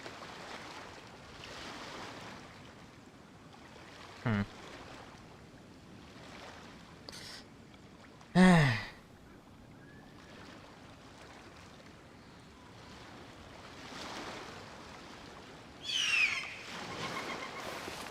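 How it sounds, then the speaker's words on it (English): Calm ocean waves wash softly around a sailing boat in Genshin Impact: a faint, steady sea hiss broken by a few brief louder splashes and knocks, with no talk. "Waves are as calm as always."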